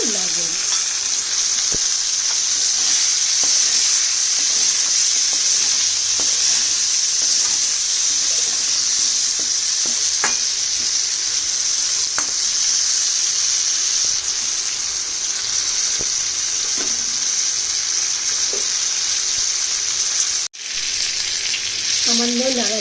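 Steady hiss of frying in a pan as turmeric and salt are added and stirred in, with faint scraping of the stirring spoon and a brief clatter near the end, no talking.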